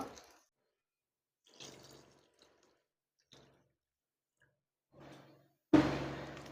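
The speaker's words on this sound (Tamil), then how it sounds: "இதை நல்லா ரெண்டு தண்ணி வந்து நல்லா அலசிங்க" Rice being rinsed: water sloshes and splashes in short bursts with quiet gaps between, ending in a louder, closer rush of pouring water.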